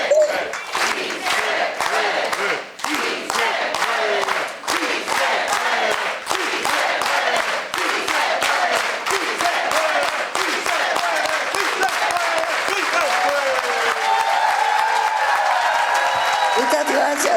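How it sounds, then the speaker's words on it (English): An immigrant celebration crowd at a community event in Marin chants Sí se puede in unison, punctuated by loud, regular organized hand claps in a steady rhythm that runs throughout. "let's all do it with an organized hand clap, everybody"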